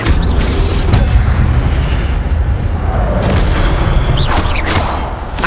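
An Expelliarmus spell cast in the game Hogwarts Legacy: deep booming bursts and whooshes roll over a continuous heavy rumble, loud and close.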